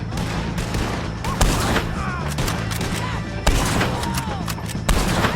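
Gunfire in a Red Dead Redemption 2 shootout against O'Driscoll gang members, with repeated sharp shots and bursts cracking over a dense, busy battle din throughout, some louder shots standing out near the front.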